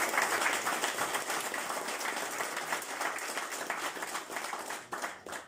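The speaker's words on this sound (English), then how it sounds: "So if you can give them a round of applause as well." A round of applause from the audience at a sports club's end-of-season presentation day, steady clapping that continues for several seconds and fades slightly at the end.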